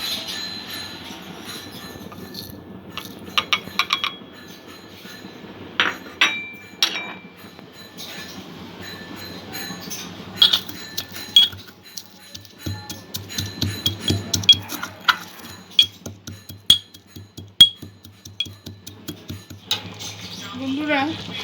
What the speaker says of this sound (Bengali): মশলাটা আমি গুঁড়ো করে নেব।